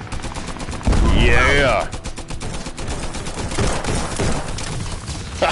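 Gunfire in the VR shooter Guns n Stories: Bulletproof, a dense, loud burst of rapid shots lasting about a second, followed by quieter crackling action while someone talks and cheers over it.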